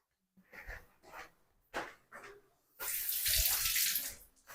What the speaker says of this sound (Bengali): দিদি হাত ধুয়ে নিতে বলছে, হাত ধুয়ে নি।